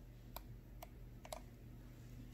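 Razer Mamba Elite mouse scroll wheel pressed down through its first and second stage, a few faint sharp clicks spaced apart over steady quiet background hum.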